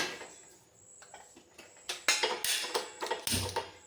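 A metal cooking pan being set down and handled on a stove before tempering spices, giving a quick series of sharp clanks and clatters that grow louder toward the end, close and without talk.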